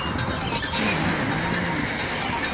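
Pigeons and doves gathered on a pedestrian street coo softly and flutter their wings amid steady outdoor ambience, with a few brief chirps from other birds above the background hum.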